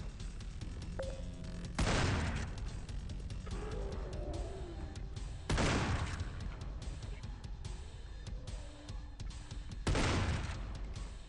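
Gunfire in the video game OWF, with three heavy, booming shotgun-like blasts spaced a few seconds apart over a constant bed of rumbling ambient noise. No talking.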